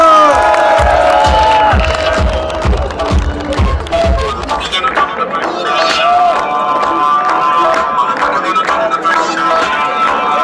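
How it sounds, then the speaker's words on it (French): Crowd cheering and clapping for the third-place finishers at a 24-hour bicycle race in Louvain-la-Neuve, loud and lively with whoops and shouts, rhythmic claps early on, then a sustained roar. "tous les applaudissements pour la troisième place de la MAF"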